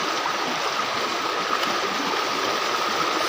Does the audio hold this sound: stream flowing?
yes